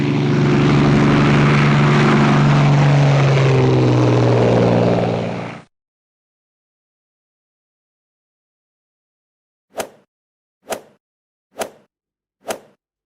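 A biplane's propeller engine drones loudly and steadily for several seconds before cutting off sharply, followed after a pause by four short separate plops.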